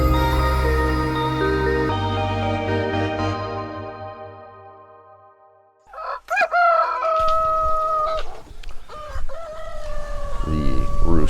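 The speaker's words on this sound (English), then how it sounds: "The roosters are the free alarm clock here." Roosters crowing loudly and close by in the morning on Phu Quoc, Vietnam, one long drawn-out crow fading away, then overlapping crows and clucking from several birds.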